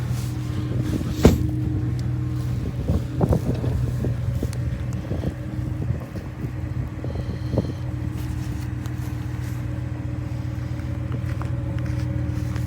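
A 2013 Ram 1500 Laramie Longhorn pickup idles outdoors with a steady low engine rumble, heard close with wind buffeting the microphone and a few scattered knocks and clicks.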